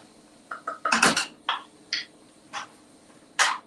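Vegan spring dish ingredients stirred in a pan, a series of scattered metallic scrapes and clinks of a utensil against cookware, moderately close and fairly quiet, with no talking.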